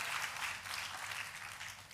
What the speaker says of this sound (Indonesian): Boleh saya berikan tepuk tangan yang paling meriah buat Yesus Tuhan kita.